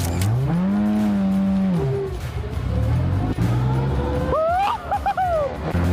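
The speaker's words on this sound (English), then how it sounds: "first this fan would have to prove his skills by driving a Formula 4 car" A Formula 4 race car drives past at a track, its engine note sweeping up and down through gear changes, loud and near, with a second high-revving pass toward the end.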